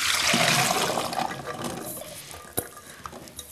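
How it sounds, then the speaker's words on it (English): Soaked dried beans being drained of their water in a kitchen, a close splashing, gurgling pour that tapers off into scattered drips and small knocks. "Once your beans have soaked for 12 hours,"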